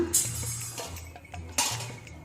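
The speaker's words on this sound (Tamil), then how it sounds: "மூடி எடுத்துகிட்டு கிளறி விட்டுக்கோங்க." Close metallic clinks and scrapes of a spoon against a pot of coconut milk chicken curry, a few irregular stirring strokes with a low hum underneath.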